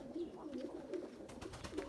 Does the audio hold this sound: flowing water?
no